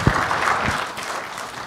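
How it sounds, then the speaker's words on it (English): Audience applause welcoming a speaker at a prosthodontics lecture, a brief dense burst of clapping from a seated crowd with no talking over it. "Please give a warm welcome to Dr. Tony Daher with a big round of applause."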